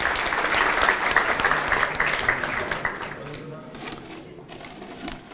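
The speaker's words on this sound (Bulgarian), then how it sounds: "Честито! Аплодисменти!" An audience applauds a winner at the closing of a QA conference, loud at first and then fading out while people talk over the tail end.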